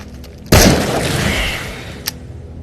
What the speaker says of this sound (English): We're gonna pop them with the shotgun.